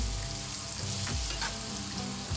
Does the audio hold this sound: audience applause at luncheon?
no